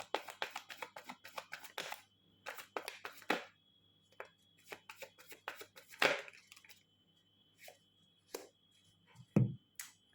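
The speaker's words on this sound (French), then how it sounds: "on va peut-être prendre une troisième carte" Tarot cards are shuffled and drawn by hand, giving close, crisp riffles, slides and taps in irregular bursts with quiet gaps between them.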